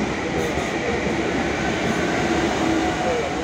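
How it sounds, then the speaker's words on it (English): A train pulls out of Sant Isidre station with a steady, loud rumble of wheels and motors. Faint squeals and clacks rise above the roar, and no one speaks. "The train is gone, that's by the lift."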